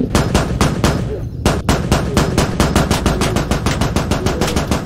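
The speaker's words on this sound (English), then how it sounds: "Laying down some cover and fire." Machine gun cover fire in the video game Squad comes as loud, close, rapid bursts of shots in a fast steady rhythm, pausing briefly once before the stream of fire resumes.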